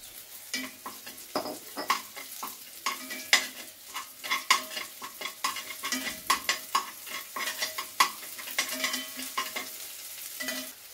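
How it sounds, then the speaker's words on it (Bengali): Dry chili powder being sautéed in a little oil in a pan for Bengali egg curry, soft sizzling under repeated scraping stirs of a spoon, irregular taps and scrapes close by, no talking. "সামান্য একটু তেল এখানে দিয়ে একটু সাঁতলে নেবো এখানে"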